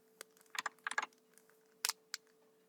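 Keys clatter on a computer keyboard as Python code is typed, faint, sparse clusters of taps with short pauses between them.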